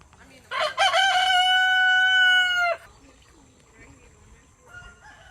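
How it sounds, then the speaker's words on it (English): A rooster crows once nearby, a loud, drawn-out cock-a-doodle-doo, followed by a much fainter crow from another bird in the distance. "roosters."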